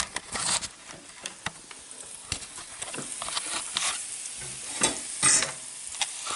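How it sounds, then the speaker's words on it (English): Meat sizzles steadily in a hot pan, with crackles, pops and occasional scraping stirs up close. "Here it's sizzling."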